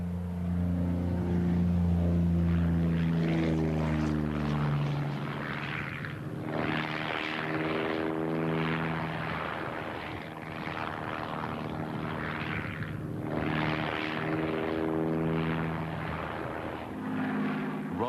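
A de Havilland Chipmunk piston-engined propeller aircraft climbs in flight, its engine drone steady and loud throughout with shifting harmonic tones as the pitch changes.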